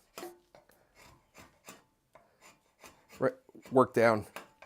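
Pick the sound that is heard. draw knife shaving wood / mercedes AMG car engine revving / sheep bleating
draw knife shaving wood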